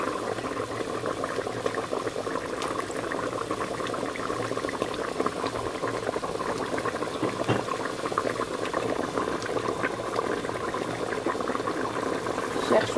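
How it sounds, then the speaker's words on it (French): A sauce with prunes and candied apricots boiling in a pot, a steady close bubbling and simmering texture that runs unbroken for the whole stretch, moderately quiet. "je laisse comme ça bouillir, jusqu'à ce que la sauce devienne onctueuse"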